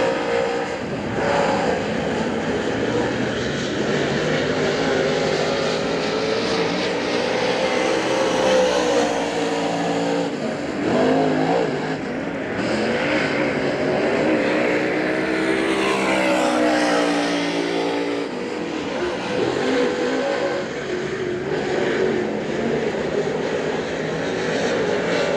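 Race cars lapping at Hagerstown Speedway during a two-lap qualifying session, a loud, continuous engine roar that swells and fades as the cars pass, with no talk.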